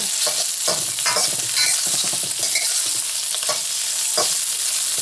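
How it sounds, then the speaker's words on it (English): Cubes of SPAM fry and brown in an oiled pan over high heat, hissing loudly and steadily up close as they are scooped and stirred around with clinks and scrapes. "I'm just going to scoop it around. I'm going to get this nice and brown."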